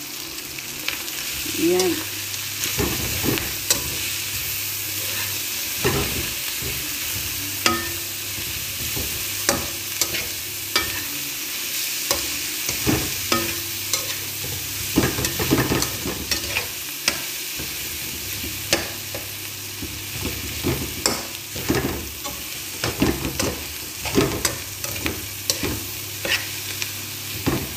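Minced keema with coriander sizzles steadily in a pan for sambusa filling, with frequent scraping and clinking of a spatula as it is stirred, up close and loud, with one short spoken word.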